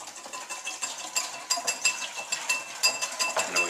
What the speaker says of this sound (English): I'm just going to whisk.